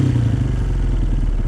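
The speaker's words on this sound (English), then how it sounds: "Now I see it, the idle, it hangs just ever so slightly." Honda CRF230 dirt bike engine idling unevenly with a bogging, hanging idle: a close, loud single-cylinder putter with a steady thumping rhythm and slight wavering in pitch, no talking.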